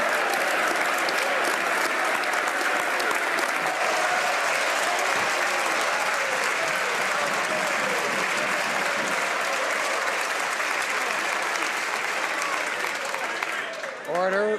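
Members of the Canadian House of Commons applaud during question period, a dense sustained wall of clapping that holds loud and even for many seconds before stopping abruptly.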